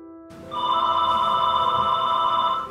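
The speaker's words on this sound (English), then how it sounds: "You hear my phone?" A phone rings with a bright, steady electronic tone that starts after a short quiet moment and holds loud and unbroken to the end, with no talking.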